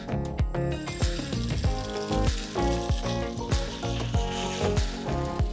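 Tofu sizzling loudly in hot oil in a pan, a dense crackling hiss with repeated sharp pops and spatters in a steady rhythm, close and alone.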